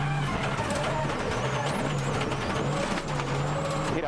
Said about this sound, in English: Marcus and the Ford Focus excel on such flowing gravel roads, and here on this 23-kilometre test, he's giving it everything.